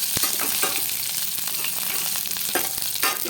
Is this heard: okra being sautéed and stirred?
yes